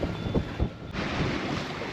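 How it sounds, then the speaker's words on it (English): Strong wind roars and buffets the microphone in a steady, heavy rush on an anchored sailboat, with low gusty thumps. "it's really windy"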